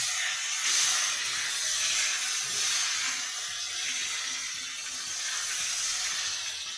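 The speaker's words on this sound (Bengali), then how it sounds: "তেলটা আমার গরম হয়ে গেল। আমি চিংড়ি মাছগুলো দিয়ে দিলাম।" Prawns frying in hot oil for a Bengali prawn and bottle gourd curry, giving a steady close sizzling hiss that holds evenly throughout with no talk.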